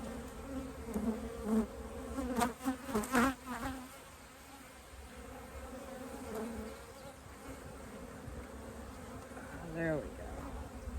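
Honeybees hum in a dense, steady buzz close by during an open hive inspection, with a faint voice briefly heard beneath the swarm.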